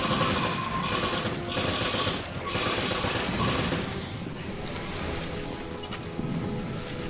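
Rapid gunfire in Resident Evil Revelations: a steady stream of quick pops rattles through dense ambient game noise, continuous and fairly loud, with no talking.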